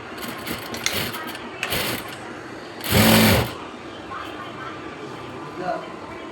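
A sewing machine runs through churidar pant fabric in short mechanical bursts, with one louder whirring run in the middle over a steady background hum.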